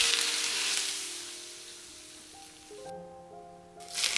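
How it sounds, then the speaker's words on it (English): Hot oil poured over a dish of Chinese Napa cabbage salad sizzles in a steady, hissing crackle that fades, breaks off briefly, then flares up again at the end. "The hot oil pouring technique can add unique and truly delicious flavors to certain dishes."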